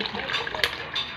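Water poured into a budget Tequila Rose style drink being mixed with yellow syrup, a short liquid trickle and splash heard close up with a brief louder splash midway.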